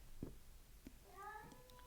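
A cat meows in the background indoors, with a few faint chirps leading into a longer, drawn-out wailing meow near the end, all quiet and somewhat distant.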